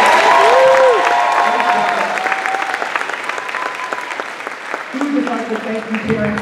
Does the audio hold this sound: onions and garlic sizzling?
no